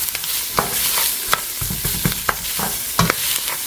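Onions sizzling in a hot pan while being stirred, a dense frying hiss broken by regular scraping clicks of a utensil roughly every half second.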